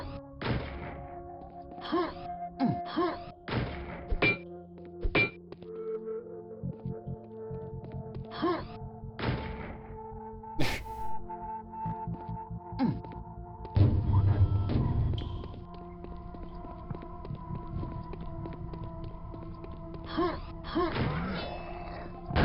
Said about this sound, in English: I'm hearing grenades being launched